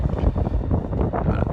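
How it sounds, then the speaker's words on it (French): Wind buffets an outdoor microphone near the National Assembly with steady low rumbling gusts throughout, loud and close, with no clear speech on top. "Il y a du vent, j'espère que le son est bon."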